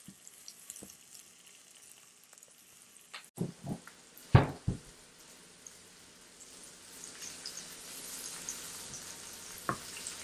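Onions caramelizing in a pan give a soft, steady sizzle, joined by a few louder clatters and scrapes from stirring partway through.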